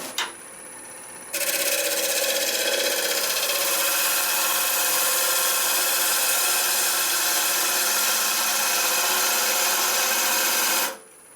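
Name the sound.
ball gouge turning a maple burl bowl on a lathe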